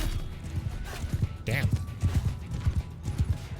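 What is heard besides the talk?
horse hooves galloping in Mount & Blade II: Bannerlord video game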